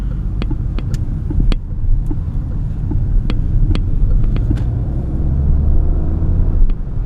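A 2024 Peugeot 2008 Allure with a 1.2 PureTech 129 hp petrol engine hums low while driving at night, a steady throbbing road rumble with scattered sharp ticks and clicks from inside the cabin.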